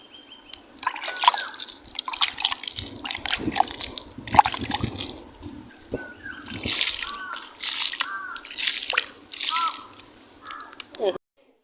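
Water from a mug splashes and trickles onto a small potted plant outdoors in a village home, in several short bursts, with a voice talking throughout.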